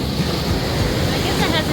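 Cold Pacific Ocean surf at a San Diego beach, a steady broadband wash of breaking waves with low rumble and wind noise on the microphone, continuous and fairly loud throughout.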